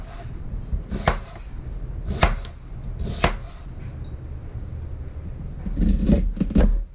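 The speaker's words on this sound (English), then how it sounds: "now we're going to begin our chopping." Several sharp knife chops on a board, spaced irregularly, then a quicker cluster of cuts near the end, close by with faint kitchen background.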